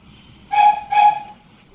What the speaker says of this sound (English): With a whistle, the big engine went off.